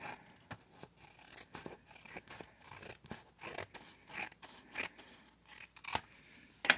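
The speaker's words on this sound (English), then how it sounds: "I can notice that that scissors is not very good" Scissors snip repeatedly in quick, uneven succession, crisp cutting clicks close up, with no voices.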